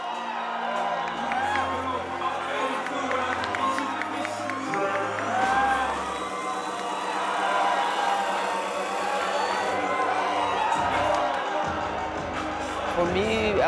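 A large crowd of fans at an open workout in Manila for a ONE Championship fight event cheers and whoops continuously, a loud dense roar with shouts rising and falling throughout.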